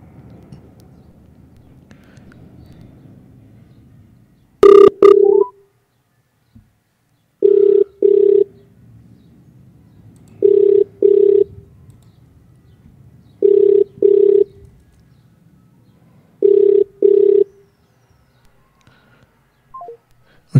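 A telephone ringback on an outgoing call to a radio show caller, with a burst of dial tones followed by five evenly spaced double rings, loud and clear over faint background hum.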